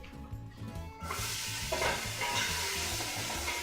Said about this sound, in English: Into the pot goes my onion